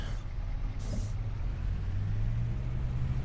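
A lawn mower engine in Farming Simulator 25 cranks and catches, then settles into a low, steady rumble that rises in pitch partway through, heard alone and up close.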